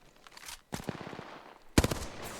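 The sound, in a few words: gunfire in a video game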